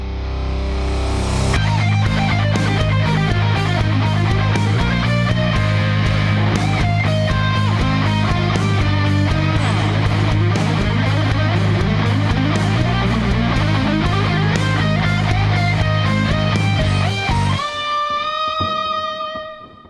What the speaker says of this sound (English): I really like the guitar solo in this song